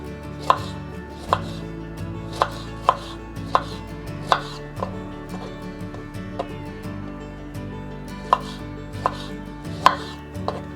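A knife coarsely chops tomatoes on a cutting board while a butter chicken dish is being prepared. Sharp, evenly spaced thuds repeat steadily and sound close, with a faint hum underneath and no talking.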